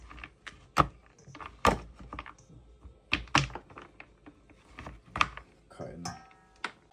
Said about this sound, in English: We just chop it into small pieces.